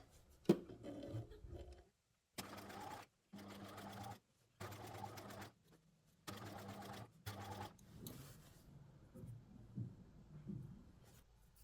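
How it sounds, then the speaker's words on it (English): A sewing machine stitches a long stitch without backstitching in several short mechanical bursts separated by pauses, close and clear, with faint rustling between runs. "the longest stitch your sewing machine can do without backstitching"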